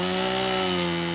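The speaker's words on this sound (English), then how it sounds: "we took a chainsaw to the trees that were holding the Toyota in place" A chainsaw runs loud and close with a steady, even engine drone while cutting trees that pin a stuck Toyota off-road vehicle.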